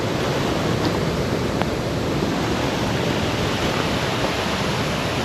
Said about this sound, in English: Quite a bit of rain today.